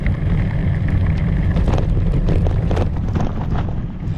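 Strong wind buffeting the microphone in the open, treeless Great Basin along a remote bikepacking route, a constant loud low roar with gusty fluctuations and no voices.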